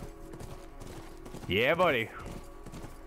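Horse hooves clatter in a galloping rhythm in The Last of Us Remastered, loud and close beneath a player's excited voice and game sounds.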